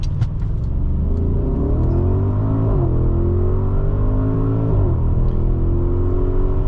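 A 2023 Audi SQ8 Prestige with its 4.0-litre twin-turbo engine launches from idle, a loud steady roar that climbs through the gears, pitch sweeping up and briefly dropping at each shift, heard close from inside the cabin.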